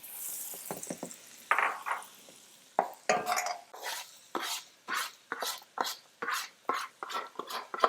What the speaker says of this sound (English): You hear the sizzling has stopped a little bit because again we did reduce the heat